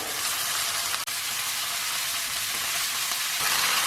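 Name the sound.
cabbage being added to a hot pan and frying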